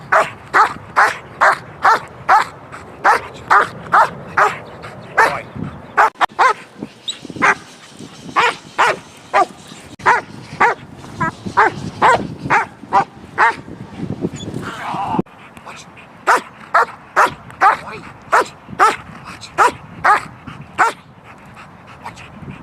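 Protection dogs bark aggressively in a training session, loud, close, rapid volleys of sharp barks in steady rhythmic bursts with brief pauses, over scuffling and occasional shouted voices.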